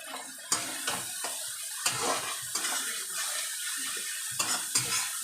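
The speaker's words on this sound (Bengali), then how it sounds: "দিয়ে ভালো করে মশলাটা কষাবো" Spoon scraping and stirring a spice paste with chopped coriander leaves in a pan, sharp metallic knocks against the pan edge recurring every second or so over a sizzling, wet sautéing hiss.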